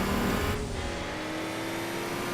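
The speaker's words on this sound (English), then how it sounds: "I can hear the RX-7 behind pushing." A Gran Turismo 4 racing car engine roars and revs nearby, its pitch sliding steadily as it accelerates, with a rising whine over the rumble and no talking.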